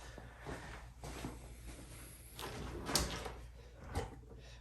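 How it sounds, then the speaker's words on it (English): A few soft wooden bumps and knocks as handleless push-to-close drawers in a Märklin Z-scale model train table slide and close, with a sharper thud near the end, in a quiet room. "These drawers, they push in so there's no handles."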